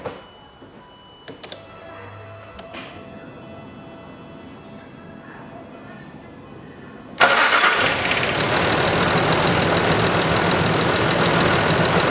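A Land Rover Discovery 3 is started after an oil pump and timing belt replacement: quiet garage ticking, then the engine catches abruptly and settles into a steady, loud idle that continues to the end.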